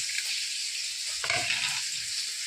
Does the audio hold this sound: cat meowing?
no